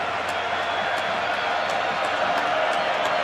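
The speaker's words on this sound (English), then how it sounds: "Crowd trying to get back into it here in Atlanta." Continuous cheering from a packed Atlanta baseball stadium during the 1991 World Series, Twins at Braves, with a steady, even roar of crowd noise and scattered whoops across the short stretch.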